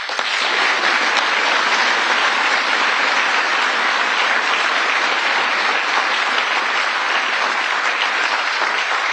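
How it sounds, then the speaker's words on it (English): A full audience applauds at a Presidential Citizens Medal ceremony, a loud continuous wash of clapping that holds steady from start to finish with no talking. "I want you to give one round of applause again to today's recipients of the Presidential Citizens Medal"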